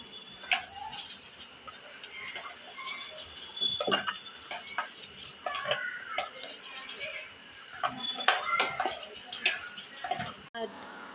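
Batter for Gujarati batata vada is whisked in a bowl, a steady run of utensil clinks and scraping strokes against the bowl, fairly close and continuous, with faint background noise.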